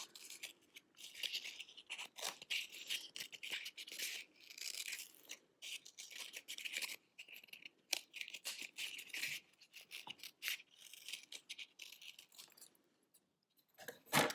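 Scissors cutting around an egg carton to shape a flower, giving close, irregular snipping and crinkly cardboard crunches in quick uneven bursts, with short pauses between cuts.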